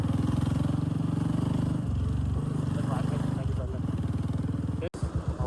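A motorbike is ridden with one hand while the rider films, its engine droning steadily up close with low harmonic tones that shift as the speed changes, then a sharp thump and uneven chugging near the end.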